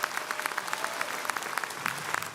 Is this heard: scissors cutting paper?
no